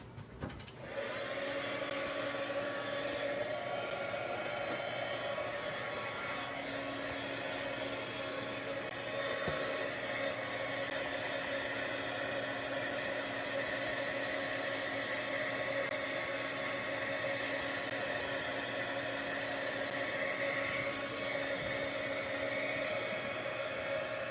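Embossing heat tool blowing on a handmade craft card, a steady loud whooshing hum with a faint whine that starts abruptly and runs unbroken for over twenty seconds, with no talking.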